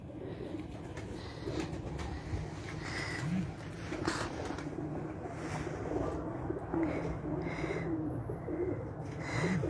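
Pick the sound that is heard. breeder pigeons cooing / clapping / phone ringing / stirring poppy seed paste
breeder pigeons cooing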